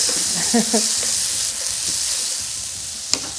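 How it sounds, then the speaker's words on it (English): A pot of frying food is stirred, a loud continuous sizzle and hiss up close, with a few short scraping and clinking touches and a brief murmur of voice early on. "Let's stir the pot a little bit."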